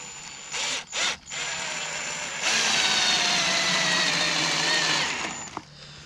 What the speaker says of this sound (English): Screw these in.